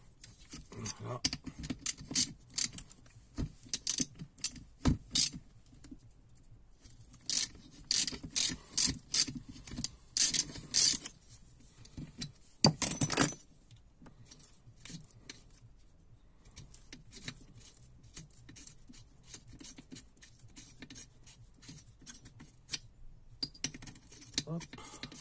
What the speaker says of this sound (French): Donc, on desserre les 4 boulons.